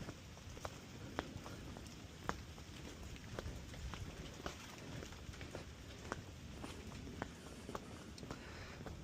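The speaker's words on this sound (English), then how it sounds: "Yeah, the rain is back." Rain falls on a San Diego garden with planters and bark mulch, a faint, steady hiss broken by scattered soft drips and taps, with no talking.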